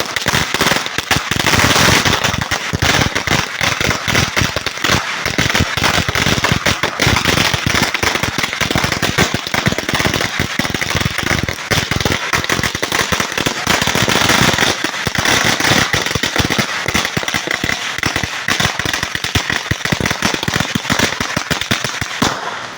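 Firecrackers bursting nonstop at a birthday celebration, a dense rapid crackle of loud pops and bangs sustained for over twenty seconds with no pause.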